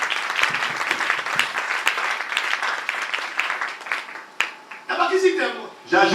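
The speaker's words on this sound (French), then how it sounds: "Vous pouvez acclamer pour le Seigneur." Church congregation applauding and cheering for the Lord, a dense, steady wash of clapping and raised voices filling the room, with louder shouts and calls breaking through near the end.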